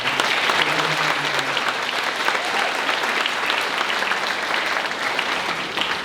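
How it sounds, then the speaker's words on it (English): A round of applause fills a school hall at an 8th grade Arista ceremony, loud sustained clapping from a large audience that stays even throughout, with a faint murmur of voices early on. "So let's have a round of applause"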